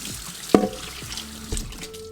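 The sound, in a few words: washing humidifier basin with water and dish soap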